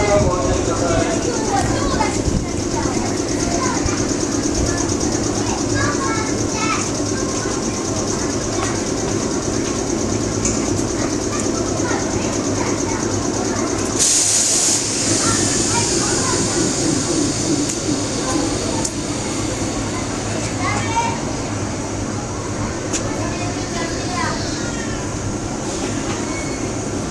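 A Kintetsu 15200 series Aozora II group charter train departing Goido station during a railway festival: a continuous loud rumble of rolling stock and motor hum, a brief higher whine midway, with platform announcements and crowd voices throughout.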